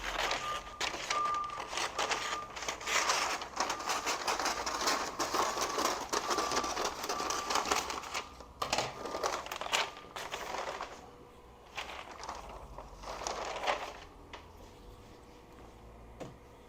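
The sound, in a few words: cutting free packaging paper from Home Depot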